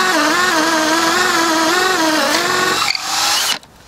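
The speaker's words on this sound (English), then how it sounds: "Drilling some holes in, so these are 1-inch or 30mm holes into a bit of softwood" A cordless combi drill bores 30mm holes into softwood at high speed, a loud steady whine for about three seconds that breaks off as the bit clears the wood and the motor winds down.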